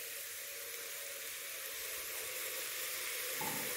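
Washed lentils go into a home-cooked vegetable soup pot with peas and are stirred, giving a steady close hiss and sizzle with a brief louder scrape of stirring near the end; no talking.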